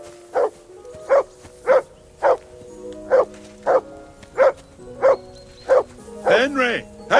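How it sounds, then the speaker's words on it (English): A dog barks in Kingdom Come: Deliverance 2, about ten sharp, evenly spaced barks close by, ending in a whining, yelping burst. "Call off that mutt of yours!"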